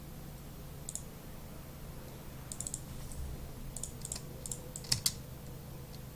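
A computer keyboard clacks in short, scattered bursts of keystrokes, faint and fairly close, over a low steady hum with no talk.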